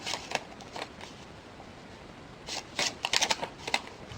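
Scissors cut across the top of a flattened paper treat bag for Halloween, close and fairly quiet, with a few scattered snips followed by a quicker cluster of crisp cuts and paper rustles toward the end.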